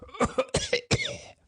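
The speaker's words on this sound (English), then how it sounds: "How long have you had that cough?" Several harsh, wet coughs in quick bursts from a drunken man in a damp wine vault laden with nitre, close and loud, ending in a rasping throat clear.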